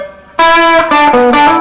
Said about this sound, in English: These screams, just get some screamers thrown in.